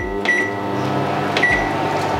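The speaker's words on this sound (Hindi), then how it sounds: "2 मिनट के लिए हम माइक्रोवेव को स्टार्ट कर देंगे" A microwave oven runs to sterilize baby bottles, giving a steady electric hum with a deep low drone and two brief clicks, each followed by a short high tone, close and with no voices.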